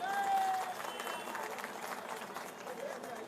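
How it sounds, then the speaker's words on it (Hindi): An audience at an election rally for parliamentary candidate Manoj Tiwari claps in a soft, continuous patter, fairly faint and distant, with a voice briefly over it at the start. "उनका खातिर ताली बजे के चाहिए।"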